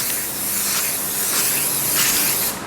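A steady hissing spray of adhesive tack from a can coats screen printing pallets, one continuous close burst that cuts off near the end.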